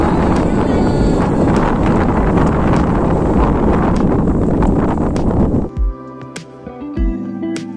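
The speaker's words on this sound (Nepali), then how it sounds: "यहाँ तपाईँहरूले सुन्न पनि सक्नुहुन्छ हावाको आवाज" Strong gusts blast straight into the microphone with a heavy, roaring rumble for most of the clip, stopping suddenly near the end and leaving a few faint, scattered sounds outdoors on a hillside road.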